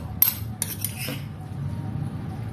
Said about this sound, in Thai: ตักใส่จานเลยค่ะ